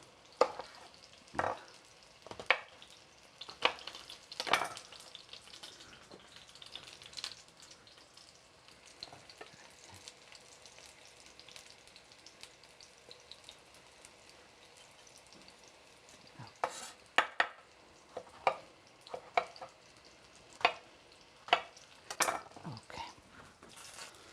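Eggplant pieces frying in a pan, a steady low sizzle broken by repeated sharp clatters and scrapes as the pieces are stirred and turned, nearby and moderately loud with no talk.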